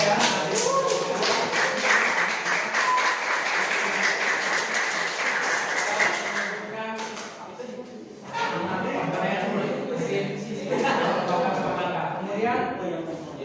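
Classroom applause for a student group after its presentation: a dense burst of clapping for several seconds, then fading as voices and chatter take over the room.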